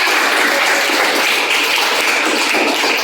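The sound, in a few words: class applause for the solar oven group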